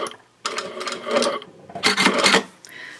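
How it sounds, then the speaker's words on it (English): A sewing machine top stitches a small fabric box pouch in two bursts of steady, rapid whirring stitches with a short pause between. It is close and fairly loud, and ends with a brief back stitch. "I will back stitch right here at the beginning, and then I'll come to the pin and back stitch at the pin."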